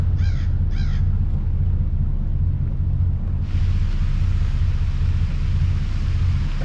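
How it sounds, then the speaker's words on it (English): Crows caw outdoors, two distinct calls close together near the start, then wind noise and a steady low rumble continue alone. "I got the crows. They're up there somewhere."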